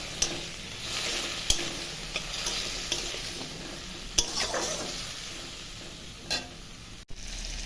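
Potato and onion sizzle as they are tempered in hot oil for a small-fish chorchori. A continuous frying hiss is broken by a few sharp clicks and scrapes of the stirring spoon against the pan, with no voices.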